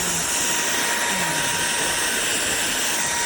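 A SMOTURE 550W cordless vacuum cleaner runs continuously with a loud, steady, airy whir throughout, up close and with no pauses.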